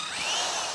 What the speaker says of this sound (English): We'll put a drill hole there